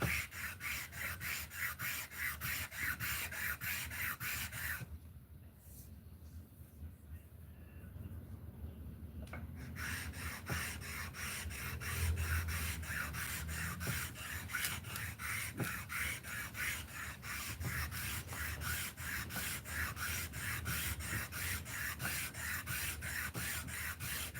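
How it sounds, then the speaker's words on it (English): Repetitive rasping strokes of sandpaper rubbed back and forth over wood by hand, close up, with a brief quieter pause before resuming. "I'm gonna hand sand it a little"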